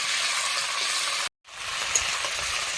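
Ginger, garlic and ground boiled onion fry in a pan with a steady close sizzle, broken by a brief silent gap before the frying hiss resumes, with no talking.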